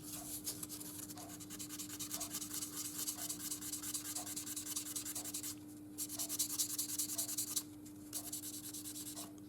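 A sanding sponge rubbed gently over the body of a 1958 Corvette Roadster Revell 1/25 scale model kit: faint, steady rhythmic scratchy strokes close up, pausing briefly twice, with a constant low hum underneath.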